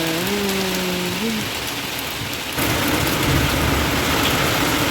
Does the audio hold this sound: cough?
no